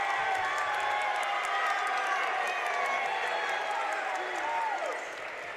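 Sarcastic crowd cheering in a high school boys varsity basketball gym after a foul call, a dense sustained roar of voices and whoops filling the space, with sneaker squeaks cutting through and fading slightly toward the end.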